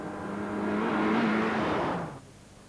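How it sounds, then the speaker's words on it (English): A Ford Sierra Cosworth Group N rally car on a rally stage sweeps past close by, its engine rising to a loud roar before cutting away abruptly. "here's the Lancia chaser in Group N, Cyril Bolton and Derek Irvine's Cosworth Sierra"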